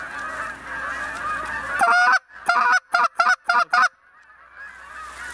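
Geese honk during a waterfowl hunt, first a steady distant chorus of calls, then a quick series of five or six loud, close honks before the flock fades back to faint calling.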